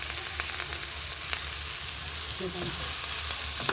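Coriander leaves sizzling in hot frying oil while cooking a Marathi vegetable dish, a steady close crackle and hiss with light stirring clinks, no talking.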